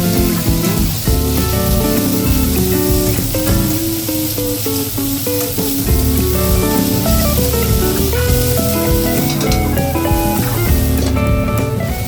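Red amaranth greens frying in a pan, a loud continuous spraying sizzle as water cooks out of the leaves, heard together with prominent background music.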